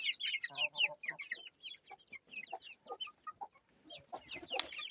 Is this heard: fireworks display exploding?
no